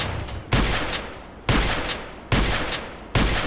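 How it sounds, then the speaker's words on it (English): A KelTec KSG pump shotgun fires in the Contract Wars video game, with four loud, sharp blasts spaced evenly about a second apart, each trailing off before the next. "I love the speed of the shooting."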